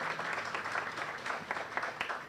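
A crowd at a ribbon cutting ceremony for a headquarters applauds, brief dense clapping from many hands at a moderate distance, fading toward the end.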